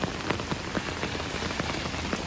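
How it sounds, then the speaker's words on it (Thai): Heavy rain falls steadily for hours, close and loud, a dense unbroken hiss with scattered louder drops striking a surface. "ฝนตกติดต่อกันหลายชั่วโมงจ้ะ"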